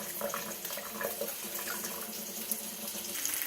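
Warm tap water runs over pasta in a colander, a continuous close splashing rush with small irregular spatters, steady throughout.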